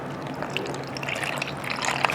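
Water poured into the back corner of a kimchi container holding seasoned cabbage, a soft continuous trickling splash running steadily for about two seconds at close range.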